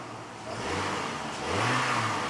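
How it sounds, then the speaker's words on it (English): A cold Oldsmobile LSS engine is revved gently a couple of times. Two moderate rises in its mid-pitched engine note swell over a steady idle, heard close with no talk. "So I'll give you some revving and not too much, since the engine is pretty cold."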